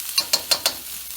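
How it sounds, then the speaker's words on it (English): Garlic hitting a hot pan for fried rice, with a few short crackling sizzle bursts and spoon stirs close by, spaced irregularly over a quiet background; no talking. "we're just gonna go ahead and get a spoonful of garlic in there"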